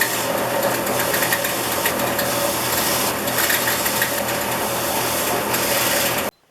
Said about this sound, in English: it's over to the wire wheel to finish up the small parts